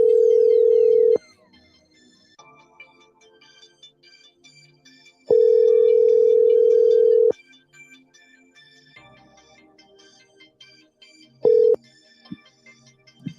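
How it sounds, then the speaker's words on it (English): A steady telephone ringback tone sounds in long bursts during a call-back over the phone, three rings roughly four seconds apart, loud and clear with faint line noise and tones between them and no talk. "All right, I'll try to call him again. Let's see if I can call him back."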